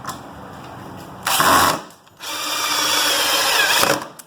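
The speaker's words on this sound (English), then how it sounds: "the second speed is for driving in screws" A Ryobi 18V drill drives in screws in two close, loud bursts of whirring motor and ratcheting clutch, separated by a brief pause.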